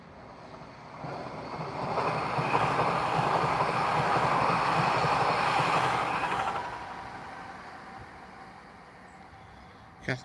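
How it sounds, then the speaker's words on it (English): TransPennine class 397 electric train approaching, a rumble that swells over a couple of seconds, holds as a steady roar of wheels and rails, then fades out, ending with a brief sharp knock. "Transpennine, class 397 approaching."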